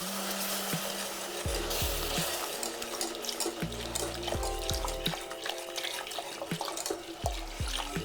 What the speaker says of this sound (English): You want to add in the milk and continue mixing while heating the sauce until it starts to thicken